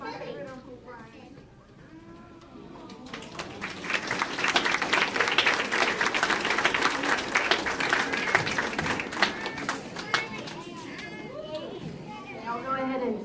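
Audience clapping at an eighth-grade awards ceremony swells from a quiet start into steady, fairly loud applause that holds for several seconds, with voices talking over it at the beginning and end.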